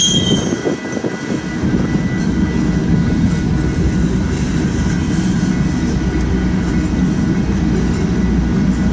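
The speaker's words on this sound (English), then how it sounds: "This train's heading west out of Omaha." A freight train rolls past heading west out of Omaha, a loud, steady low rumble of wheels and cars that holds close and continuous throughout, with no talking.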